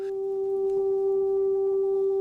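EBow drives acoustic guitar strings into a sustained warm, buzzy tone, a single steady note that swells in slightly and holds evenly, sounding alone and close.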